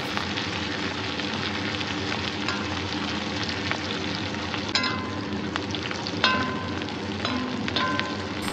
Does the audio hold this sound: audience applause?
no